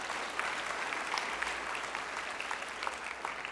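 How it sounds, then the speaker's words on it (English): A church audience applauds in a steady wash of clapping, moderately quiet and continuous, with no voices standing out. "Because if we're going to clap,"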